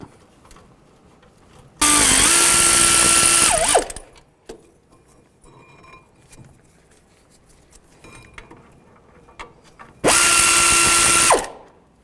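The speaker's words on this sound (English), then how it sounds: "Take these two caliper bracket bolts off. Use a 19mm socket." Two loud bursts from a powered socket tool with a 19mm socket spinning caliper bracket bolts loose on a Nissan Xterra, each lasting a couple of seconds, close up, with quiet clinks of metal in between.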